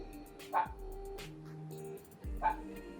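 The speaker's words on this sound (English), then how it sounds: "my dog is barking." A dog barks twice, about two seconds apart, at moderate distance, with a faint background hum between the barks.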